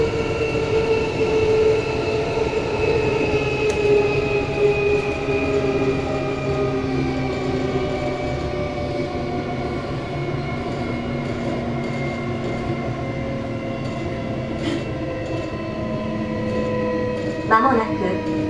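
A JR East local train runs between Nakano and Mitaka, heard from inside the carriage as a steady rumbling roll with humming motor tones, and a brief clatter near the end.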